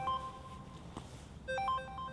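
A mobile phone ringtone chirps in short melodic beeps, fairly faint over a low room hum, with a second burst of tones after a brief pause.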